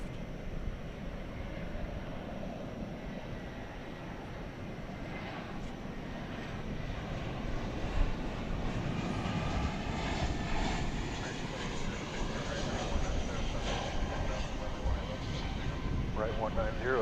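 An aircraft roars at DFW Airport at night, a broad, steady engine rumble from a distance that slowly swells without breaks.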